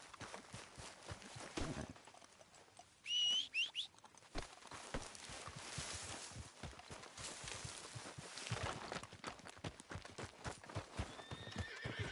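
A horse in Red Dead Redemption 2 trots with steady, close hoof clip-clops throughout, broken by a loud whinny near the start.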